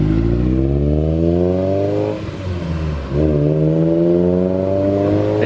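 A Honda CRX Si with a Type R engine swap revs hard with a deep exhaust note, pitch climbing, dipping briefly, then climbing again; loud and close, no talking.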